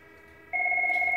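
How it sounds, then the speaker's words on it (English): A Cisco SPA IP desk phone begins ringing on an office extension, a sudden clean electronic two-tone warble starting midway and holding steady, close and clear. "you see that extension 102 is ringing"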